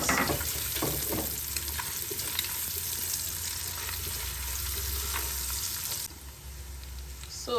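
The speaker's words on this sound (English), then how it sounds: "Now we just have to add onions to this oil and braise it." Onions sizzle and fry in hot oil in a pan for meatball sauce, a steady close crackle with faint stirring, dropping slightly quieter near the end.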